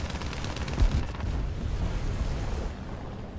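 Twin 20mm cannons on a Bf 109 E-4 fighter in an air arcade combat game fire in a dense, booming burst, loud and close, with continuous rumbling shots and no talk.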